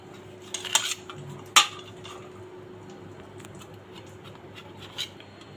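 A knife cuts the hard crusty edges off bread slices for shahi tukda, giving a few sharp clinks and scrapes against a plate, with two distinct louder knocks and a faint steady hum beneath, no talk.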